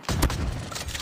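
A short burst of gunfire in the mobile shooter Call of Duty Mobile: a sharp loud shot, then a second crack close behind it, over a steady game background.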